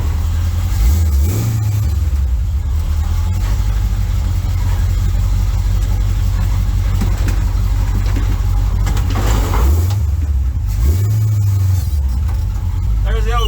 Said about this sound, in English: Boy, I love the exhaust on this truck.